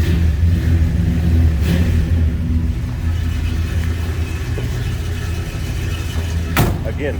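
A 1966 Buick Skylark hardtop's 455 V8 with a four-barrel carburetor, built to Stage 2 specifications, rumbles steadily at a warm idle, close and loud, with a brief rev blip near the end.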